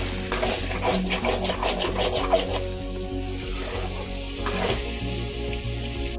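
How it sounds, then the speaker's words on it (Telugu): Eggs frying with chopped ridge gourd in a pan over high flame, a steady close sizzle broken by repeated scraping stirs of a spatula, with no talk. "ఇలా టూ ఎగ్స్ యాడ్ చేసుకున్నాక దీన్ని కొంచెం హై ఫ్లేమ్లోనే వేపుకోవాలండి"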